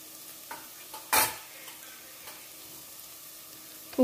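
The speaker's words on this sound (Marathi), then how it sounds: "आणि कांदा दोन मिनिट भाजून घेऊया." Finely chopped onion fries in a pan as it is stirred, a quiet steady sizzle broken by a sharp scrape of the spoon around 1.1 s and another at the end, close by with no talk.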